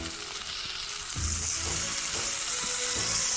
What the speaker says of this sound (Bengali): ভালো করে ধুয়ে তারপর ওই ফোড়ন তেলের মধ্যে সবজিগুলোকে ছেড়ে দেব